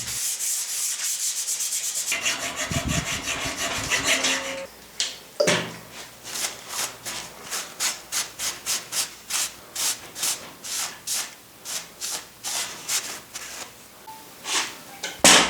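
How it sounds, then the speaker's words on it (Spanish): Wooden board being profiled with a curved sanding block of 12-inch radius, first a continuous scratchy rub, then a long run of regular back-and-forth sanding strokes, close and clear. "Para dar el perfil del tablero se utiliza un bloque de lija especial con un radio de 12 pulgadas."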